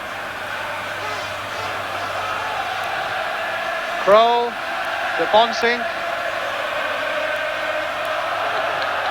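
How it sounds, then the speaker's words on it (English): Ajax football crowd in a packed stadium at a 1980 European Cup semi-final, a broad distant roar and chant beneath a commentator talking over it, with a couple of louder swells midway. "the Ajax crowd are beginning to find their voices again now"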